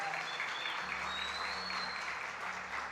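Church congregation applauding during a Portuguese-language service, a continuous wash of hand clapping filling the sanctuary, with a low organ-like tone sustained underneath.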